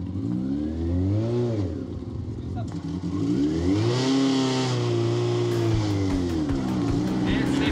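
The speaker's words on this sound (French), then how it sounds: "Moteur de Yamaha R1, 6 vitesses, propulsion, différentiel barré en arrière." A Klaxter car with a Yamaha R1 motorcycle engine, six-speed gearbox, rear-wheel drive and locked rear differential revs hard, its engine note repeatedly rising and falling in loud, close sweeps.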